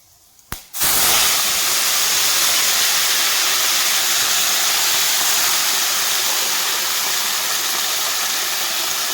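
Chopped bottle gourd hits hot oil tempered with dried chilli, bay leaf and five-spice for a Bengali prawn dish, setting off a loud, steady broadband sizzle that bursts in after a brief quiet start and continues without a break.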